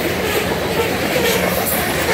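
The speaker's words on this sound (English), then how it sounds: "This train is motoring, Jack." CN crude oil freight train with BNSF buffer hopper cars passing close at speed, a steady loud rumble of rolling wheels and rattling cars that fills the whole clip without let-up.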